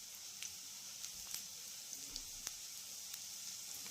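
Vegetables such as onion stalks, beans and brinjal fry in hot oil in a home kitchen, giving a faint, steady sizzle with small scattered pops throughout and no talk.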